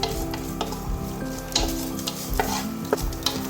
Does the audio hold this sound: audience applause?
no